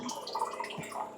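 Water pours from a water can in a brief, splashy trickle with dripping, close by and moderately quiet, with no other sounds.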